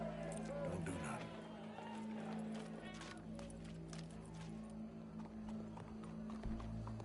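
Horse hooves gallop in a steady clip-clop run inside a PS4 video game, with occasional whinnies and crowd murmur, all layered under game music and spoken dialogue.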